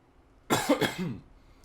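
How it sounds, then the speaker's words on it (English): A single short burst of coughing from a nearby person close to the microphone, followed by quiet. "sorry if I blow up my mic with my coughing"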